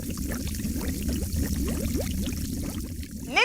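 Water being poured from a vessel, a continuous gurgling pour with rising bubbling tones throughout, close and clear, ending in a brief louder splash.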